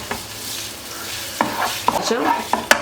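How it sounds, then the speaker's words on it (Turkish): Minced meat fries in a pot for a Turkish stuffed-eggplant dish, with a soft sizzle underneath close, scraping stirs and a few sharp utensil knocks against the pot. "Kıymayı biraz kavurayım."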